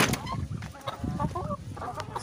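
Hens in a chicken coop giving soft, irregular clucks and short calls close by, a few overlapping bursts with light background rustle.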